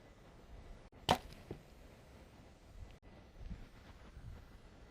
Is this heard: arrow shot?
yes